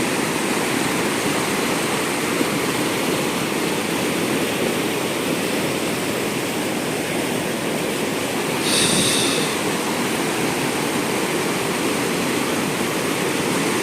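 Strong river flow near Manali, a steady, loud broadband rush of water holding constant throughout with no voices, a brief hiss rising near the middle.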